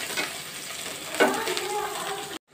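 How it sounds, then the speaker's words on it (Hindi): A sizzling tadka with green coriander and black pepper is stirred in a pan, a steady close frying hiss with scraping strokes of the utensil, before cutting off abruptly at the end. "अब हम इसको अच्छी तरह मिक्स कर लेंगे।"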